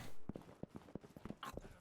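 Galloping horses in a horse race within a medieval open-world game: a quick, uneven run of hoof thuds at moderate distance, with no talk over them.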